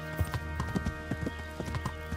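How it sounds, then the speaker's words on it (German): Horse carrying a heavily laden rider passes by in the medieval game Kingdom Come: Deliverance, with steady clip-clop hoofbeats on the road, close and moderately loud against a faint background drone. "Achtung, Pferd mit Reiter."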